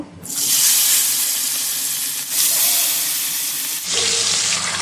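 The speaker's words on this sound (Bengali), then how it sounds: "তেল গরম হয়ে গেছে, আমি এবার মাছ ভেজে নেব।" Loud, steady sizzling of small tangra fish frying in hot oil, a dense hiss that briefly dips twice before surging again, with no voices.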